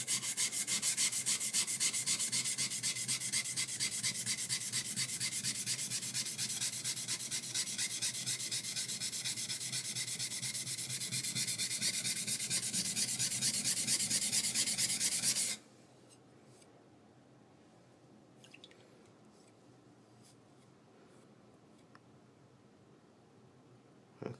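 A skiving knife is ground on a sharpening stone with steady, close, rhythmic scraping strokes for about fifteen seconds, then the grinding stops abruptly and near-silence follows.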